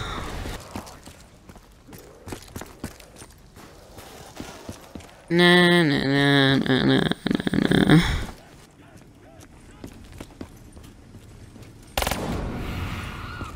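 Gunshots in a pistol-and-knife-only video game match, scattered sharp cracks spread through the scene, with a loud tonal burst midway and a voice talking at times.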